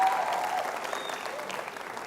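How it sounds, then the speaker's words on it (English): An audience claps in a steady, dense round of applause at a talk on entrepreneurial failure, fairly distant and fading slightly over two seconds. "So you can give yourself a round of applause one more time"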